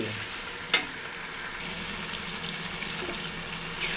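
Tomatoes with salt cook in a pan for a tamarind curry, giving a soft, steady sizzle with one sharp clink early on.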